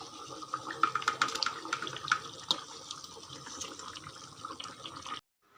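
Water poured into a pan of simmering fish curry made with fried stingray pieces, a soft splashing and trickling with a few brighter clinks early on, fairly quiet and close, ending abruptly in silence.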